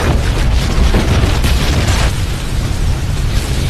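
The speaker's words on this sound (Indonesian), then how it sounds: "Garcia memasang jebakan bahan peledak di gudangnya, tetapi untungnya Riley menyadari ia pun dengan sesegera berlindung dari ledakan tersebut." A booby-trapped warehouse explodes in a film scene: a loud, sustained roaring blast with rumbling debris that fills the whole stretch, with no voices over it.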